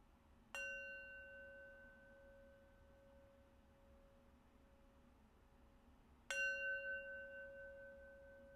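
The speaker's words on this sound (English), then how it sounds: "we'll slowly draw our practice to its close with 3 rings of the bell" A meditation bell is struck twice to close a practice, each stroke a clear ringing tone that decays slowly into near silence, the second strike louder than the first.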